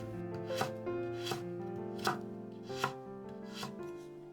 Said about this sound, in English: I often do this cutting way to make noodle dishes.